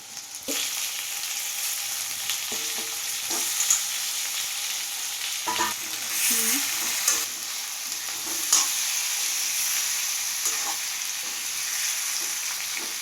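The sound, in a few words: ridge gourd frying in tempering oil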